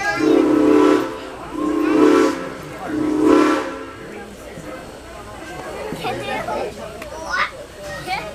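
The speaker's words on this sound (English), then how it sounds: "Did you hear those train whistles out there?" Several long steam train whistle blasts sound one after another, loud and hooting, followed by chatter and the bustle of a crowd nearby, in Strasburg.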